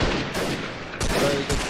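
Gunshots in the shooter game Freeman: Guerrilla Warfare, three sharp, loud reports spaced unevenly over a rumbling battlefield background.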